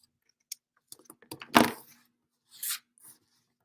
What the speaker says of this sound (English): I'll cut this off a little bit here.